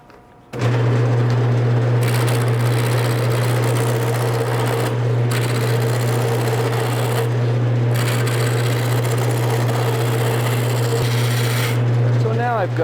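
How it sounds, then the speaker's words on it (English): A wood mallet blank spins on a wood lathe while a tool roughs it down toward a cylinder: a loud, continuous low motor hum with rasping, scraping cutting noise over it, close by, with no talking. "I'm going to do this for a while, and I'm going to lathe this down into a circle."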